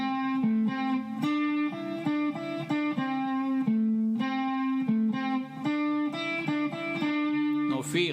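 Electric blues guitar plays a plain, steady lick of evenly picked notes with no bends or pull-offs. The tone is slightly overdriven and the playing is close and moderate in volume, repeating phrases across several seconds with a brief squeak at the end.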